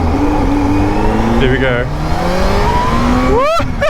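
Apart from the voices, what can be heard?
Kawasaki Z H2 motorcycle accelerating at partial throttle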